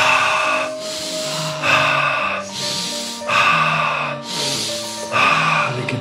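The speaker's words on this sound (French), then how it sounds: "on inspire par le nez, on expire par la bouche" Slow, deep breaths are drawn in through the nose and let out through the mouth, three long airy cycles in a steady rhythm, close and clear over soft background music.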